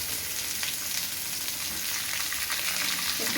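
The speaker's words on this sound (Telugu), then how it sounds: "4 టమాటాలు నూనెలో ఇట్లా కచ్చపచ్చనే వేసుకోండి దూరగా." Four tomatoes fry in oil for a Telangana-style taro root masala curry, a loud, dense, continuous sizzle with no talk.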